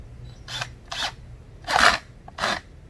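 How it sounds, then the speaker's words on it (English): A 5/16-inch nut driver tightens a no-hub clamp on a sump pump assembly, giving four short raspy bursts about half a second apart, close and moderately loud over a low hum. "5/16" nut driver, and tighten this up just as tight as you can make it."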